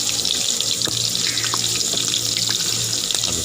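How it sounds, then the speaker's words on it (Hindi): Ginger paste sizzling in hot ghee, a continuous bright hiss with scattered crackles and faint clinks, steady and close throughout. "सबसे पहले घी के अंदर हमने अदरक का पेस्ट डाल दिया।"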